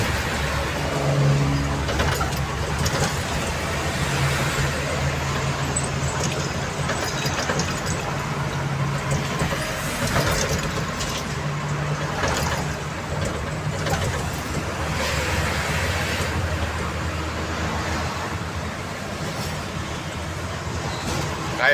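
Steady roar of heavy traffic on the Jakarta-Cikampek toll road, with engines of a container truck, buses and cars passing continuously, loud and close, with no clear individual pass-bys.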